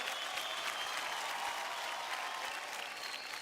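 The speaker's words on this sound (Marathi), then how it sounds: "सचिनजी आणि वर्षाजींसाठी जोरदार टाळ्या होऊन जाऊ द्या." Applause on a TV dance show stage, a dense, steady wash of clapping from a studio crowd that stays loud and even throughout.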